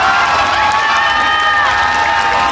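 A concert crowd at a Yoon Do-hyun show cheers and applauds loudly and without a break, with high shrieks and whoops rising over the dense, steady roar.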